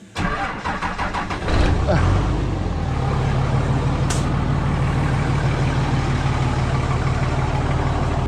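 A truck engine cranks and catches after sitting all weekend, then settles into a steady, loud, close idle rumble with a brief sharp click partway through.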